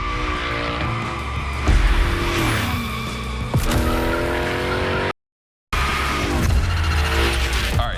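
A car in The Crew Motorfest slides through gymkhana-style drifts, its tires squealing in long rising and falling screeches over a steady engine roar, with a brief gap of silence partway through.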